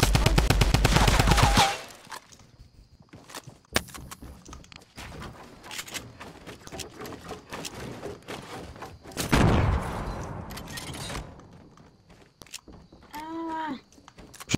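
Rapid video-game gunfire, including shotgun blasts, opens with a loud sustained burst, then scattered shots and bangs follow amid quieter game sounds, with a louder cluster near the end.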